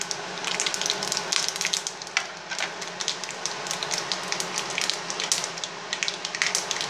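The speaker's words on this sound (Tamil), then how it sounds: "கடுகு நல்லா பொரியட்டும்." Mustard seeds splutter in hot sesame oil for a tomato pickle, a dense, close crackle of rapid pops over a constant sizzle.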